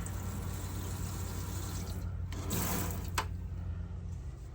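Water running steadily from a kitchen sink faucet sprayer inside a converted bus, a constant close hiss and rush with a brief shift in the flow partway through.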